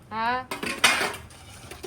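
Clinking dishes and scraping utensils sound up close, with a brief voiced tone at the start and running water-like hiss underneath.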